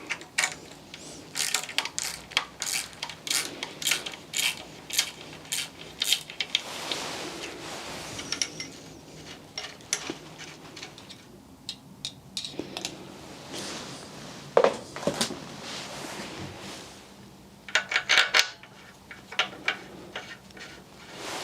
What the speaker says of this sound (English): I'll just tighten this down with a ratchet